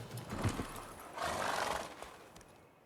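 A horse in The Witcher 3 video game neighs and whinnies with a couple of strained bursts over faint background game sound, moderately quiet and close.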